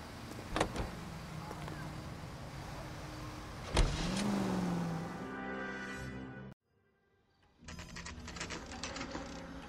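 A car in the video game L.A. Noire: a thud near the start, then an engine that revs up and settles into a steady drone, cuts out briefly, and resumes as the car drives off.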